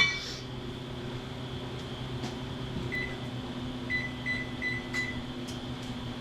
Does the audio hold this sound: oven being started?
yes